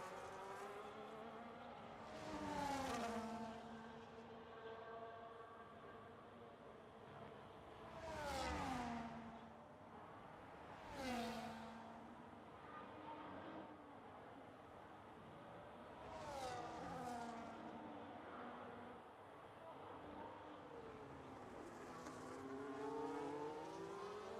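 Race cars in a racing video game at the Zandvoort circuit pass one after another, each rising and falling engine whine marked by braking and downshifts, with several cars sweeping through in a continuous stream of revving.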